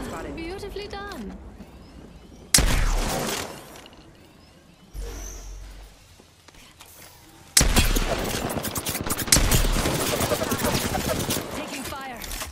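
Gunfire in Apex Legends gameplay comes in loud bursts of rapid automatic shots with heavy impacts and pauses between volleys, with game voice lines speaking between the shooting.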